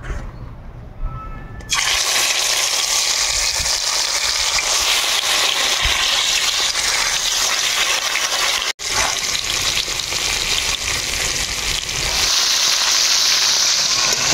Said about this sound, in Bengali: তেল আমার গরম হয়ে গেলে মাছের পিছলা ভাজি নিব।